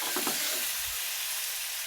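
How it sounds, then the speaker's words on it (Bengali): Curry being stirred in a frying pan: a steady, bright sizzle fills the whole moment, with a couple of quick scraping stirs near the start. "আমি এখন তরকারি দিয়ে ভালো করে নেড়ে ছেড়ে কষে ঢাকনা দিয়ে দেবো"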